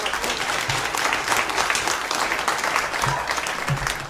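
Audience at a show gives polite, steady applause, an even patter of many hands at moderate volume with a few low thumps scattered through.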